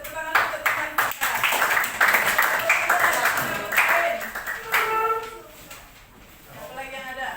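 Students in a classroom clap for a classmate, a loud, fairly close burst of hand clapping with a few voices mixed in, easing off briefly before picking up again.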